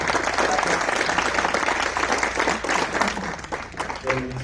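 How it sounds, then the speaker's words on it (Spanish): Applause from an audience after a talk on distributed generation, steady and fairly loud throughout with voices mixed in toward the end. "Muchas gracias, un aplauso."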